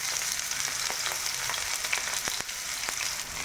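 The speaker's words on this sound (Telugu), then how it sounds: "ఇప్పుడు మనము సన్నగా తరుక్కున్న ఎర్రగడ్డ అంటే ఉల్లిపాయలు వేసుకున్నాము" Thinly chopped onions fry in plenty of hot oil for a Rayalaseema fish curry, a loud, continuous close sizzle with occasional soft stirring scrapes and no voices.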